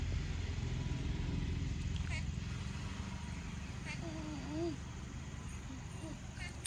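A motorcycle engine rumbles steadily nearby and fades slightly toward the end, running beneath people talking throughout.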